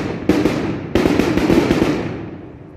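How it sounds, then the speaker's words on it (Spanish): Firework rockets at a parish in Abasolo, Guanajuato, burst in a rapid series of sharp, loud cracks and booms, several close together, with rumbling echoes fading out at the end. "los cohetes que se escuchan acá en la parroquia"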